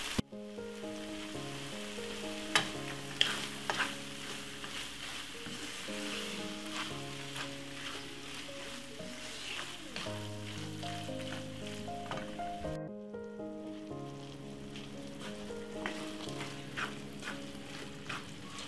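A tuna and pasta sauce cooking down in a pan gives a soft, steady sizzle and bubbling for a long stretch, with a few faint clinks and background tones and no talking.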